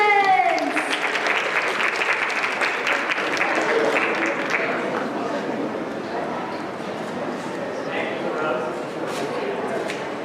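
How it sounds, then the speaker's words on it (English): A convention audience at a live dating game show claps and cheers for the contestants in a dense, sustained burst of applause that slowly thins out, with scattered whoops and voices mixed in. "let's give another round of applause to our wonderful contestants."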